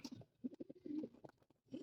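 A breeding pigeon coos in a run of rounded, low throaty notes, close and fairly soft, broken by brief pauses before a final cooing phrase.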